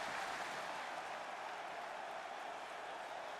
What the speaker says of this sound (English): Let me know if the crowd noise is too loud